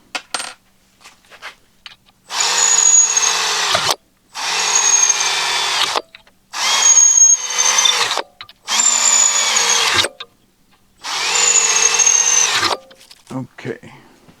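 A power drill whines in five sustained bursts of a few seconds each, separated by short pauses with light clicks and handling noises, while installing a Humminbird Helix 15-inch fish finder and console mount.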